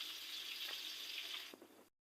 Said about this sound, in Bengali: এখানে মাছ ভাজা হতে থাকুক